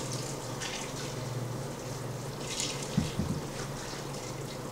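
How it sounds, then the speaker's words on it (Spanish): Hot water pours steadily onto cleaned beef tripe in a kitchen, a continuous splashing, gurgling stream that stays close, with a few brief louder splashes near the end and no talking. "Ahora que ya tenemos la panza limpia, le vamos a echar agua caliente."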